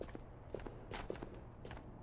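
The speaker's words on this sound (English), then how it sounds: "I thought I heard a footstep" Footsteps in the video game Ghosts of Tabor, a handful of soft irregular steps on a hard surface, fairly quiet and close, with no talking.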